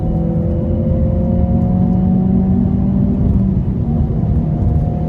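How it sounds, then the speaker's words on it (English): A small modern car drives along and accelerates, its engine a loud, close whirring rumble with a steady drone that rises slightly as it pulls. The sound continues without a break, and no one speaks. "it's a very drivable little car, this actually"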